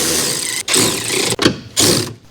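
Close, loud ratchet clicking in three bursts separated by short pauses as motor mount bolts are snugged down on a 2013-2017 Honda Accord 2.4L, with no talking.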